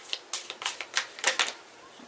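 Tarot cards are shuffled in short bursts of crisp riffling and tapping, close and fairly quiet, several quick clusters of flicks in a row.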